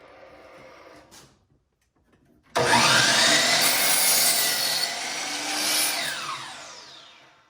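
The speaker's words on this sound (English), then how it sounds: "I'm gonna just line up that with that red line, do a cut, and show you what that looks like" A Dewalt DWS780 compound sliding miter saw cuts through a piece of wood: after a brief quiet pause, a loud, close burst of blade whine and cutting noise runs for about five seconds, then winds down, with no talking.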